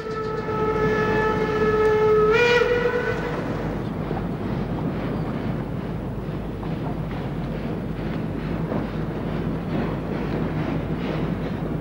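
A steam train on the Hamburg harbour railway in 1938 sounds a loud, steady whistle that cuts off after about two and a half seconds. A continuous rolling rumble of the moving train follows and carries on to the end.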